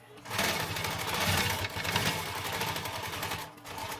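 A sewing machine runs steadily while stitching a simple homemade backpack, a close, continuous mechanical whir with a fast needle rhythm. It dips briefly near the end, then resumes.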